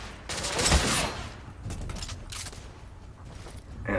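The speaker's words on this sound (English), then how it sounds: "they're carrying pistols that have automatic fire" Rapid automatic pistol fire from enemies in the shooter game The Order: 1886, a dense burst of overlapping shots near the start followed by scattered, quieter bursts and game ambience.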